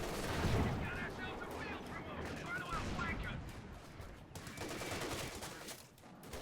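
Machine gun fire and explosions from a Company of Heroes 2 World War II strategy match against a Panzer IV force, a dense continuous battle din of bursts and booms under a commentator's voice.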